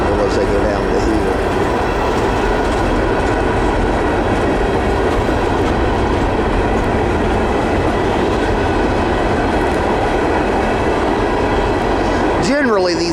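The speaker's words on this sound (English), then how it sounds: "Generally, these ballast trains aren't too long." A Norfolk Southern Herzog ballast train hauled by SD70ACe locomotives rolls past close by, with a loud continuous rumble and clatter of wheels and a brief squeal near the end.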